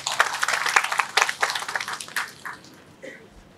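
Applause from an audience for a poet and documentary maker, a dense burst of clapping that thins out and fades over a few seconds.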